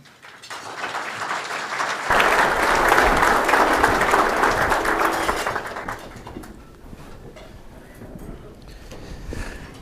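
Audience applause welcoming a healthcare innovation panel at an NACD Houston board oversight event, a broad sustained clapping from a large room that swells after two seconds, holds for several seconds and then thins out.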